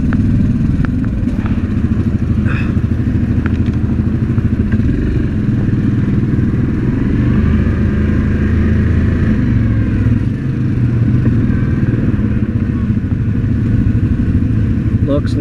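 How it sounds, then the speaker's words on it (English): An ATV engine runs loud and close while the rider reverses along a dark woodland trail at night, holding a steady rumbling drone for the whole stretch with slight shifts in pitch and a few faint clicks. "I gotta reverse and hold my brake light on"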